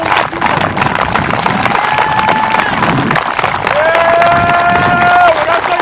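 A group at an outdoor sports camp clapping together, a dense, loud rattle of many hands under a shouted voice and crowd noise, with a whistle-like tone sounding twice.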